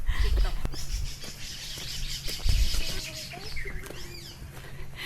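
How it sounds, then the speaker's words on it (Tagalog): Birds chirp and call intermittently over steady forest ambience in Bataan National Park, Philippines, with scattered high tweets and a rising whistle near the end, and light rustling or movement close by. "Gusto ko yung tunog ng ibon."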